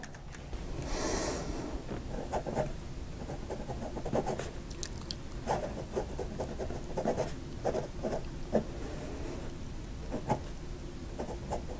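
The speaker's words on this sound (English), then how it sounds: "you can write with it for as long as you like, either posted or unposted" Wing Sung 601 piston-filler fountain pen writing on paper, a soft continuous scratching with small irregular taps of the nib, close and steady throughout.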